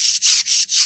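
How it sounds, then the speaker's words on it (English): A robot's motor shaft seated in its motor makes a harsh, gritty crunching rasp in four rapid repeated strokes, close and loud with no voice. "That's the sound of the shaft being inside of the motor."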